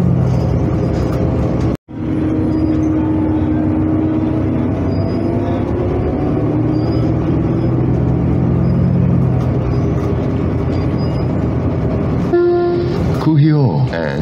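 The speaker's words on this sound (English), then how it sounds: "Please hold on. The bus is departing." Honolulu TheBus city bus on Route 2 through Waikiki pulling away and cruising, a steady loud engine rumble and road roar throughout with rattles and a brief dropout, under automated announcements and a voice.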